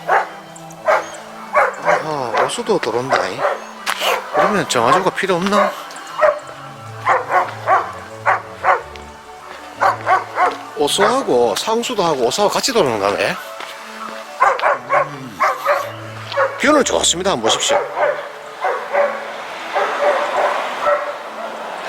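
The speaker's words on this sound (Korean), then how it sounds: "저쪽에 갔을 때는 큰 개가 왔다 갔다 하고 쌔바둑이기 때문에 짖는 소리가 큽니다" A big dog barks repeatedly and loudly near a rural land plot, with bursts and whimpering yips over about twenty seconds while someone talks throughout.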